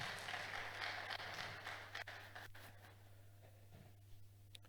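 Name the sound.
conference audience applause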